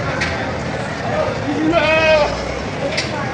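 A Black Mamba US line goat, a purebred offered for sale, lets out a wavering bleat in the middle of ongoing conversation, with a fainter cry near the end.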